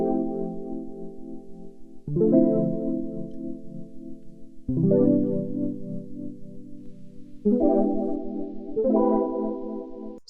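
A $2000 vintage synthesizer plays sustained chords with chorus enabled, a sub layer and a touch of noise; four or five rich, layered chord changes ring out loud and alone, each swelling in at roughly two-second intervals.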